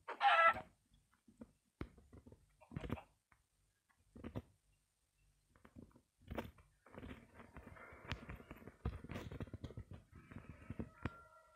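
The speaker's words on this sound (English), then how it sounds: "I have tamed a chicken." Chicken clucks in Minecraft, a handful of short separate squawks and clucks spread across the clip with gaps between them, alongside soft in-game thuds and steps, with no talking.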